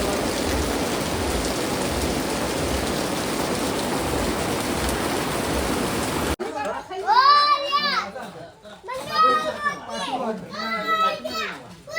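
A steady roar of heavy rain fills the first half, then gives way to children chattering and playing nearby.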